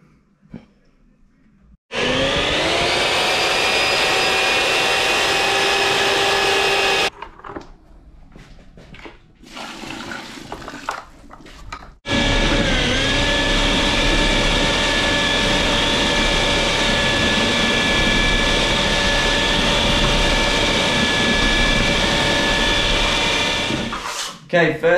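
A batch of plaster is mixed with a power mixer, whose loud, steady whine runs in two long bursts separated by a quieter pause with brief scraping, close by and without talk.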